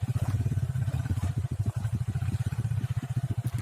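A motocross motorcycle rides over rough off-road dirt tracks, its engine chugging in a steady rapid pulse with rattling clatter, close and continuous without talk.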